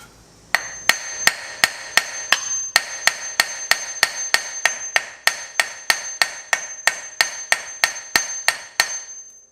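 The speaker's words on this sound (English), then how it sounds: "I'm just going to beat the end of these with a hammer to see if we can get those things loosened up" Steady, evenly spaced hammer blows on Lexus front suspension parts ring out one after another, about two dozen sharp metallic clanging strikes at close range.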